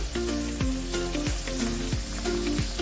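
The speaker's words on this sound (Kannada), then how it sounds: "ಈರುಳ್ಳಿ ಎಲ್ಲ ಸಾಫ್ಟ್ ಆಗೋವರೆಗೂ ಫ್ರೈ ಮಾಡ್ಕೊಳ್ಳಿ." Onion sizzles and fries steadily in a hot pan with chana dal, cumin, green chillies and curry leaves for raw mango rice, a continuous crackling hiss with a few clinks of the stirring spoon, close and with no talking.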